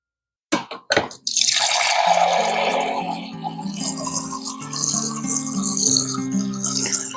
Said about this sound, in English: I'm getting the water out of the refrigerator